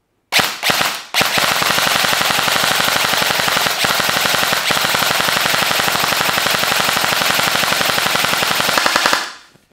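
A WELL WE01A CQB airsoft rifle fires a long, fast, even string of sharp cracks for about nine seconds after a few separate opening shots, loud and close, then stops abruptly.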